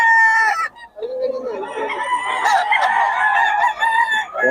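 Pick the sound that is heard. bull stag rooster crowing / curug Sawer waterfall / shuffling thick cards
bull stag rooster crowing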